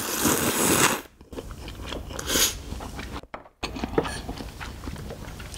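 Close, crisp biting and crunchy chewing of cold noodles in icy broth dipped in a Cheongyang chili sauce, a few loud bites with brief pauses, no talking.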